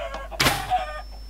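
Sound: chickens clucking in a video game

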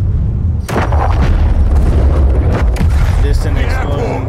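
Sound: explosion in Call of Duty Modern Warfare 3 video game

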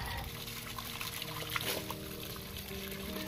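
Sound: running water rinsing star gooseberries for jam

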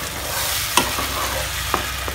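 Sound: stirring tomato sauce with fried onion and garlic

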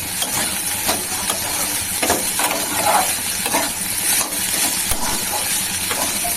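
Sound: vegetables frying in a pan

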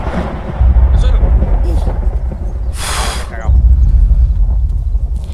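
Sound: thunderstorm thunder in the video game ArmA 3

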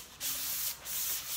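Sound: scraper scraping chipping milk paint off furniture

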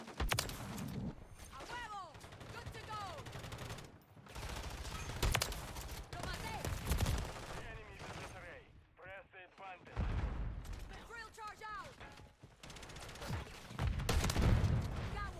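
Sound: gunfire in Modern Warfare 3 multiplayer video game

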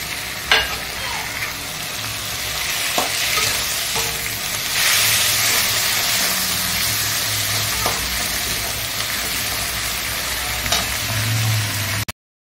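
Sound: ginger-garlic and cumin paste frying and being stirred in pan

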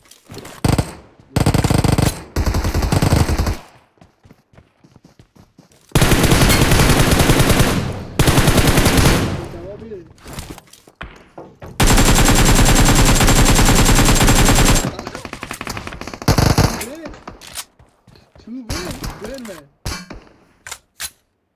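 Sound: gunfire in the video game BGMI

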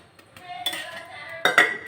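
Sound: pan placed on stove

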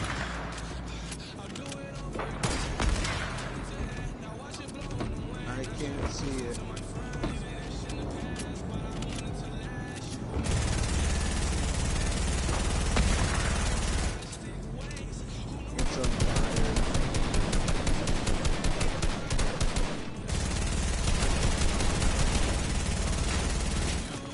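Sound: gunfire during a strafe run in Fortnite video game

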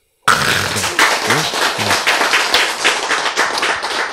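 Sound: audience applause

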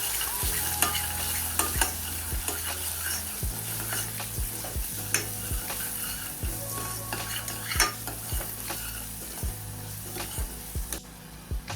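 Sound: sauteing spice masala in oil

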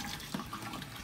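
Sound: water washing off a cooler

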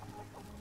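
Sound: chicken clucking in Valheim video game

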